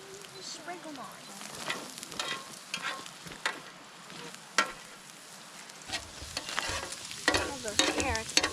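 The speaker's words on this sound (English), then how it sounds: "Now those are sizzling in the pan." Sprinkled carrots sizzle and crackle in a pan beside bacon at a backcountry campsite, a steady close frying hiss with stirring scrapes that grows busier toward the end.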